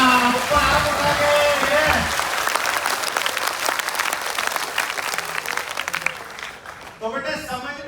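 A large gathering of children applauds in a loud, sustained patter that slowly thins over several seconds before a voice begins speaking.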